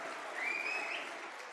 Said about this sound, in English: Applause for Danny Mack.